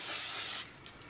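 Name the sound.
spray can spraying onto rough watercolour paper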